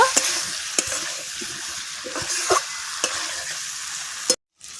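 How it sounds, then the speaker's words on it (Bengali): Potato and pointed gourd stir-fried with spices and prawns over low heat, a soft continuous sizzle punctuated by regular spatula scrapes and taps against the pan, ending in a sudden cutoff. "মশলার সাথে ভালো করে আলু পটলটা কষিয়ে নেব"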